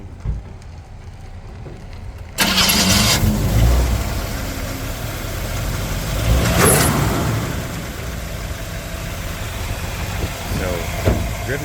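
A restored 1960 Chevrolet Impala with a Brock intake and four-barrel carburetor starting up, an abrupt crank that catches into a loud, rough idle that swells and settles, with a voice talking over it.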